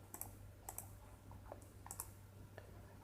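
Someone types on a computer keyboard in a quiet room, with soft irregular key clicks in small clusters and short pauses over a faint steady hum.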